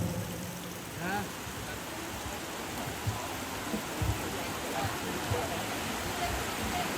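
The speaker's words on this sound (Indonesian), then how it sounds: "Ya kalau hujan begini bagusnya minum kopi le." Steady rain falls during an outdoor traditional Toraja funeral gathering, a dense, even hiss that continues through the whole stretch with a few faint thuds and murmurs underneath.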